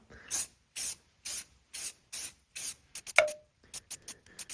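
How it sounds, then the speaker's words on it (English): Short bursts of hissing aerosol spray, about a dozen quick pumps in a row, close and crisp, the later ones briefer and faster, sprayed onto a Jeep XJ front end to prevent oxidizing. "put a little spray on there"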